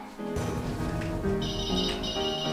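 A folding phone rings with a bright electronic tone pattern, short repeating beeps and melodic notes, fairly close and clear.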